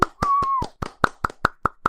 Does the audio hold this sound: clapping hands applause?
yes